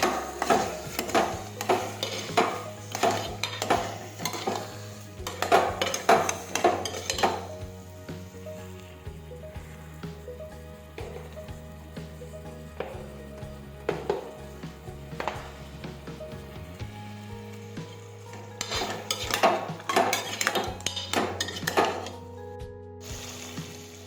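A spatula scrapes and clatters in a pan while spices are mixed into an eggplant, potato, tomato and pea curry, in irregular bursts of knocking and stirring with quieter gaps over a faint tonal background.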